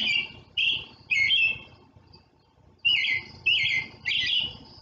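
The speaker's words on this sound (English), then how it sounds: "That is the American robin." American robin singing outdoors, several short bright warbling phrases in two bursts separated by a brief pause, clear and fairly close with faint background noise.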